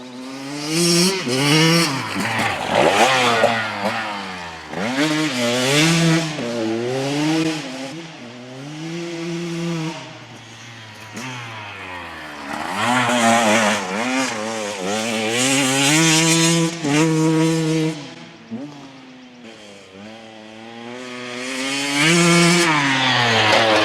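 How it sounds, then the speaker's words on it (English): Small two-stroke dirt bike engine revving loudly and up close, pitch rising and falling through repeated throttle blips with brief dips between pulls. "I'm starting to fall in love with the sound of my bike. A two-stroke."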